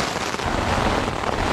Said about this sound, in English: we are in a downpour. There's a thunderstorm going on out there.